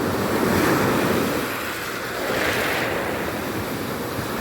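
Sea waves break and wash in continuously, a loud surging roar that rises and falls, with wind buffeting the microphone.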